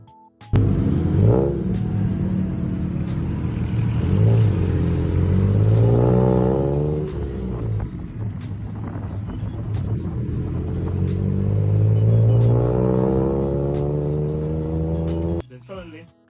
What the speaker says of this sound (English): Mr. Tuk-Tuk Maestro, starts weaving through the bustling traffic with the finesse of a dance choreographer